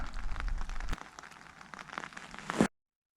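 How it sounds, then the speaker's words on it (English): Light rain patters on a tarp in a forest, a faint steady scatter of drops with a soft rustle near the end before the sound cuts to silence. "I can't hear anything except a bit of rain on the tarp."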